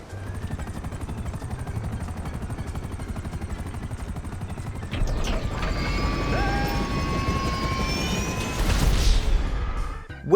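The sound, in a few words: helicopter in video game Grand Theft Auto 5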